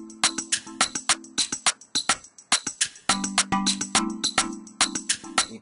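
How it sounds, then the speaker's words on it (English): Bright, plinky synthesized steel drum notes in FL Studio play a rhythmic pattern, each strike trailed by quick repeating delay echoes, clear and isolated. "The steel drum on its own, it's like this"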